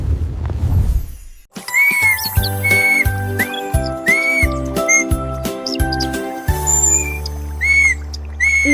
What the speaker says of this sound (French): Le caneton a commencé à essayer des mélodies sifflantes, atteignant le ciel.